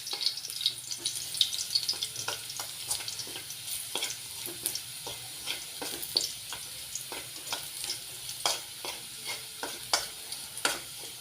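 Garlic sautéing in a frying pan for lomi, a soft continuous sizzle with repeated clinks and scrapes of a utensil stirring at irregular intervals, fairly quiet and with no talk.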